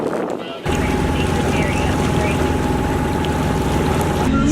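Dana 24 sailboat motoring under engine on the way to Avalon, Catalina Island, a loud steady engine drone with wind and water hiss that starts abruptly and runs on evenly, while a voice speaks over it.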